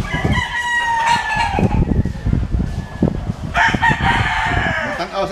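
A stag rooster crows loudly and close by, with clucking in between and a second crow near the end; faint background noise runs beneath.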